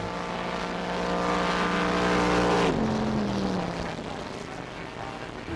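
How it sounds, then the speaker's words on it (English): A powerful racing speedboat engine of about 1600 horsepower, running around 8,000 revs, roars with a steady high-pitched whine, then drops in pitch as it passes, fading into a rushing wash of water and wind. "This engine in this boat is pumping out probably around 1600 brake horsepower."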